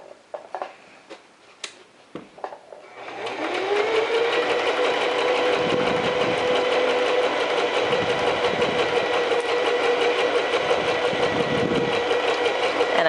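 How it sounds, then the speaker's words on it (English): A sewing machine runs steadily, stitching a bodice dart along a drawn line through to the fabric's edge, with a few light clicks and handling noises before the motor starts and then hums continuously and loudly. "drop the presser foot, drop the needle, sew a few stitches"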